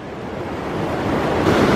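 Water rushes through a big pipe beside a bridge on the Pioneer Trail to Spaulding Lake in California, a broad roaring wash that builds slightly louder toward the end.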